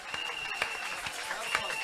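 A church congregation at a Christmas Eve service claps and cheers in acclamation of Jesus Christ, a steady wash of applause with scattered louder claps and crowd voices throughout.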